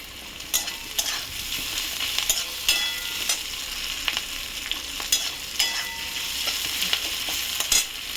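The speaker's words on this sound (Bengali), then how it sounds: "পেঁয়াজটা আধা ভাজা হয়েছে," Half-fried onion sizzling in a pan, a continuous close hiss broken by repeated spatula scrapes and stirring clatter at an uneven rhythm, with no talking.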